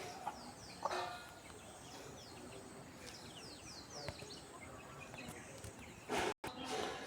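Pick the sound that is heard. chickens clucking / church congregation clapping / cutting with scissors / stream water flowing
chickens clucking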